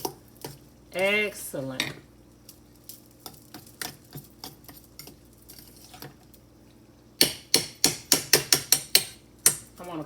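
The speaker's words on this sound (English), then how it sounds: "so we're going to stir that up just a little bit" Metal utensil scraping and clanking against a pan while melting cheese is stirred, scattered taps then a quick run of sharp knocks near the end, with a brief spoken word early on.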